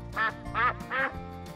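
Three loud, close duck quacks in quick succession, nasal and raspy.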